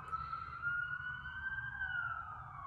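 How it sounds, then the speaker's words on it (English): A police and emergency siren wails along a New York street, a faint, distant tone that slowly glides and sustains for the whole moment with low traffic rumble beneath. "I'm in New York and the sirens"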